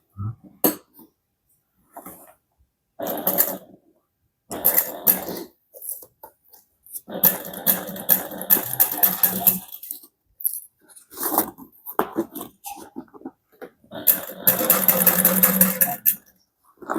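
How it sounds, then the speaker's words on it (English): Sewing machine stitching the seam of a Regina Phalange handbag with a 3/8 inch seam allowance, running in several short bursts of fast needle chatter separated by pauses, close and clear. "we're going to sew that together using a 3/8 inch seam allowance"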